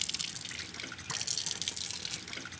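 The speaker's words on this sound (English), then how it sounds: "I always put the cold water on just to counteract all the hot steam." Cold tap water runs into a kitchen sink while cooked rice is drained, a steady gushing splash with some dripping and surging, close by and with no talk.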